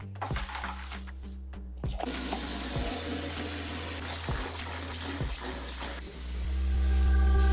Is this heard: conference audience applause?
no